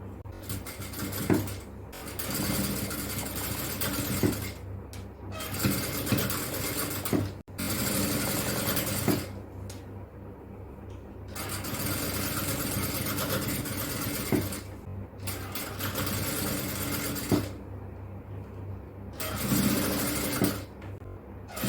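A sewing machine stitches a folded yoke on an XXL nighty, running in steady mechanical bursts of several seconds each, close and loud, separated by short pauses with no talking.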